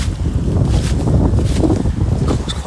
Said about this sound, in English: God, it's quite windy, isn't it?